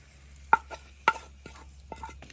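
A spoon scrapes and taps in a pot of tomato, onion and ground masala, several sharp stirring knocks spaced unevenly over a low steady hum.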